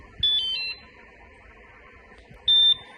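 Rockbros electric bike alarm giving short electronic beeps, a quick chirping burst followed after a pause by another sharp tone, close and clear in a quiet room.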